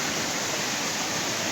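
A waterfall in the Shuar forest roars as a dense, steady rush of falling water, loud and close, with no break in the wash.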